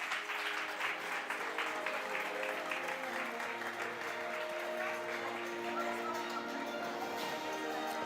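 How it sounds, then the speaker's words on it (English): Sustained, dense audience applause at a national brand forum as the Johannesburg mayor is welcomed to speak, steady clapping filling the room for the whole stretch with faint voices underneath. "Can we give him a warm round of applause?"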